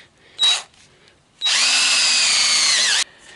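A 6 mm hole is drilled through sheet steel on a Citroën Traction 11/15 frame rail. A short high-pitched burst of the drill comes first, then after a pause a loud, steady whine of cutting for about a second and a half before it stops.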